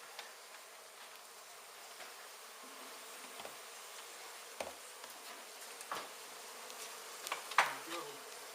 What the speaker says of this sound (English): You hear that humming? That's where all them bees are at.